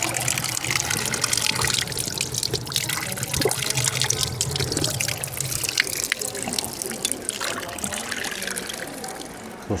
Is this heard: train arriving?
no